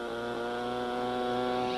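A model aircraft's Saito 1.2 cubic inch four-stroke engine runs at a steady, loud drone with a strong harmonic whine, sounding nearby and continuous at an early-1980s fly-in, with no talking.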